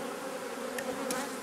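Dense, steady buzz of many honeybees around a hive, a continuous close drone with a couple of brief sharper whines as individual bees pass near.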